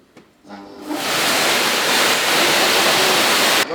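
Kärcher professional pressure washer switching on after a few faint sounds, then a loud, continuous hissing spray of water held at full force for several seconds before cutting off abruptly at the end.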